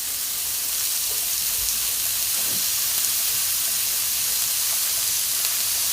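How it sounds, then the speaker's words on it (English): Meatballs simmering in homemade marinara sauce in a pan, giving off a steady, even hiss with faint bubbling pops throughout. "I'm gonna put the meatballs in there just to simmer for a bit."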